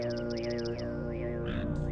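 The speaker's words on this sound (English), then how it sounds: "Mudokon singing sounds, well, a lot more plain" Mudokon creatures from the Oddworld video game chant a plain, droning song in layered low voices, with a rhythmic pulsing accent above it throughout.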